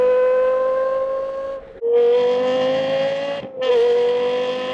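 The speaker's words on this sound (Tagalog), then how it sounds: "Iba tumunog ang LFA." A Lexus LFA engine at an outdoor car meet, revved loudly in steady high-pitched sustained blips with two brief drops between, each rising again to a strong whine.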